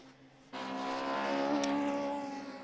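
Formula Junior race cars at Donington Park, a historic single-seater engine note suddenly rising and holding a steady howl as the cars pass at a distance, fairly faint.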